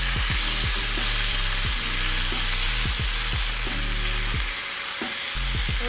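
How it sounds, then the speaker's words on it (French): Pork sauce with onions frying in a pan for Congolese pork chops, a steady dense sizzle with repeated low scraping and knocking strokes of stirring throughout, briefly dipping near the end. "Et après cette sauce, je vais faire revenir avec les oignons"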